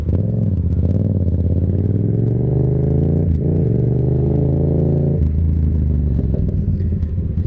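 A used Yamaha XSR 700 cafe racer motorcycle engine rumbles loudly and steadily, with a deep idle that rises briefly in a rev partway through, then settles back to a lower drone.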